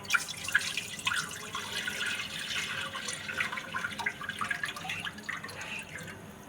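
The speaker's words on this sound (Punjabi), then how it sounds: "ਹੁਣ ਆਪਾਂ ਸਾਰਾ ਦੁੱਧ ਇਹਦੇ ਵਿੱਚ ਪਾ ਦਾਂਗੇ" Milk is poured into a cooking pan that already holds a little water, a steady liquid stream with trickling, dripping texture lasting several seconds, fairly close and moderately loud, with no talking over it.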